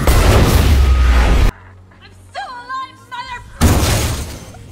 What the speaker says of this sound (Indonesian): Ketika ledakan terjadi, Max pun mendengar hal itu